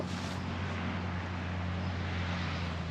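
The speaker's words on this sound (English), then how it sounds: "Somebody's tazzing their engine." A nearby vehicle engine held at a steady drone with strong low harmonics, continuous for the whole stretch with no pauses, in an outdoor garden setting.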